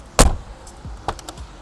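Door of a Mercedes G Wagon W463 shutting with a single sharp, solid thump up close, followed by a couple of faint mechanical clicks.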